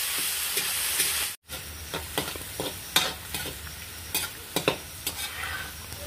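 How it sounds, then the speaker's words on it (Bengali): Vegetables, beans and carrots, frying together in a hot pan, a steady sizzle broken by scraping stir strokes and clinks, with a brief cut to silence near the start. "এই দুটোকে একসাথে আমি ভালো করে ভেজে নেব।"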